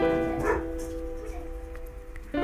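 A dog barks in a couple of short yips behind a sustained Afrobeat synth melody, the barks faint and intermittent against the music.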